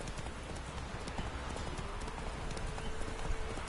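Horse hooves clip-clop steadily on the ground in The Witcher 3 video game, a continuous close trotting rhythm with no speech over it.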